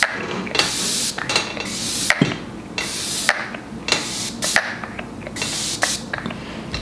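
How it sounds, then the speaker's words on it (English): Hair spray is misted over a finished curly wig in a series of loud, close hissing bursts, several short sprays in a row with brief pauses between them. "I'll go ahead and spray this down."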